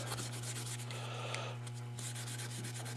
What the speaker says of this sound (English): I'm going to go over it with 400 grit